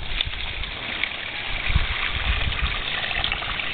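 Water poured from a bucket onto a newly planted bare-root rose mulched with wood shavings, a soft continuous gush and splash at low level, with a few heavier spills partway through.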